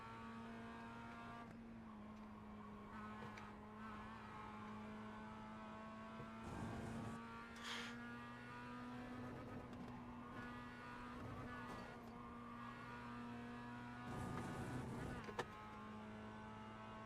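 Racing game car at Bristol with a steady engine drone held throughout, broken by brief bursts of tire scrub and rougher noise as it slides sideways through a drifting turn.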